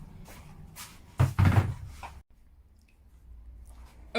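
A lid slides off the hinges of a homemade hybrid composting toilet with a few short wooden knocks and scrapes, followed by quiet.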